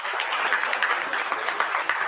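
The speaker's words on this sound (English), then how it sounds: "You should keep on clapping." An audience at an institute foundation day ceremony clapping, a dense, steady patter of many hands at moderate loudness, continuous throughout with no talking.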